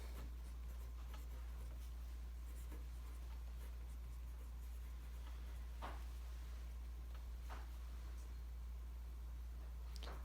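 Pen moves across paper as complete sentences are written by hand, faint scratchy strokes with a few sharper taps over a steady low hum, no voices.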